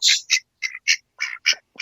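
A duck quacks close up in a rapid series of about seven short, raspy calls with brief pauses between them, alone and fairly loud.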